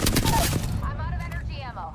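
Gunfire in Apex Legends, a quick burst of loud nearby shots at the start fading into game sound effects, with no voices.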